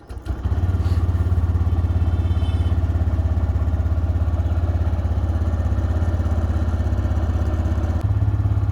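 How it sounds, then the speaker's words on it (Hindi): Motorcycle engine fired up in neutral, then settling into a steady, loud, close idle with a dense low rumble that holds evenly throughout, a brief blip near the end. "बट अभी स्टार्ट करते हैं बाइक को।"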